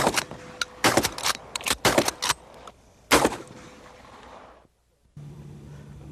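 An early black-powder gun fires outdoors. The reports come as several sharp, loud bursts close by, each followed by a fading rumble, and then the scene goes quiet.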